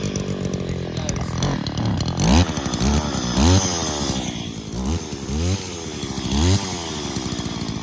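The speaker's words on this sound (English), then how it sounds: "And then once it fires, flick the choke off and pull again until it starts up properly." Stihl petrol strimmer, a 1987 FS 86 or 2023 FS 240C, pull-started with choke: a two-stroke engine revving in repeated rising bursts, loud and close, with no talk.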